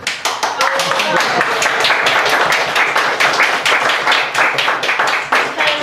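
An audience claps steadily for about six seconds at a farewell reading at Kerouac House, with dense, sustained applause from many hands close by and a few voices mixed in.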